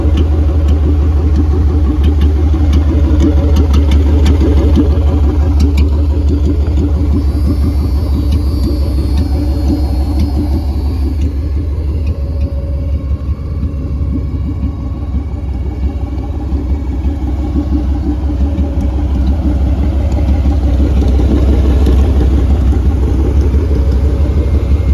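A tuned, turbocharged Infiniti G35 sedan drives along with a steady, loud engine drone and low road rumble that holds throughout, with no talking.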